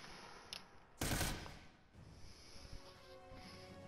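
A shotgun fires once in the military shooter game America's Army: Proving Grounds as a sharp, loud blast. A faint click comes just before it, and quieter game noise follows.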